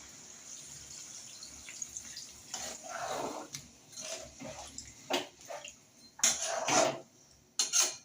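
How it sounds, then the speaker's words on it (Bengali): Water goes into a pot of cooking meat in irregular splashing bursts, with clinks of a utensil against the pot and quieter pauses between. "এখন দিয়ে দিলাম জল।"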